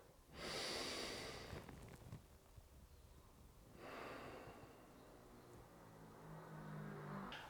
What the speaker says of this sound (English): Reverse breath.